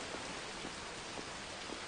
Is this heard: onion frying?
no